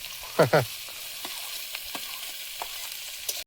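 Beetroot and potato fry in hot oil with nigella seeds and dried chili, giving a soft, steady sizzle with a couple of louder sputtering bursts near the start.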